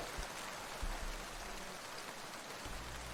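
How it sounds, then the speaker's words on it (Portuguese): Heavy rain pours in a steady, dense hiss throughout, with a few low rumbling thumps underneath, set in a dramatic Berserk narration scene after a battle by a river cliff. "Uma forte chuva se iniciou."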